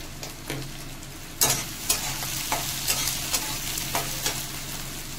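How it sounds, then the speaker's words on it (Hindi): Masala with chopped tomatoes frying in a pan for a Jammu-style rajma dish, a continuous sizzle broken by regular scraping strokes of a spoon stirring the mixture, close and clear. "मसाला अच्छा से भूनना है। मैं टमाटर इसमें डाल दिया।"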